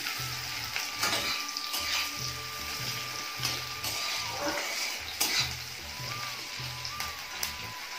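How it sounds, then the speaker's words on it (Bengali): Mixed vegetables sizzle in a pan for red chow mein, with a steady hiss broken by scraping stirs and spatula knocks. A faint high tone comes and goes in the background. "ভালো করে আগে সবজিগুলো ভেজে নেব।"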